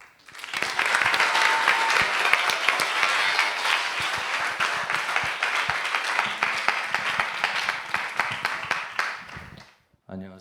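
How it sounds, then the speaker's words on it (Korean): A church youth summer revival congregation gives warm applause welcoming a pastor to the pulpit, steady crowd clapping with sharp individual claps on top that thins out and stops just before the end. "목사님께서 나오실 때 동안에 따뜻한 박수로 환영해 주시길 부탁드립니다."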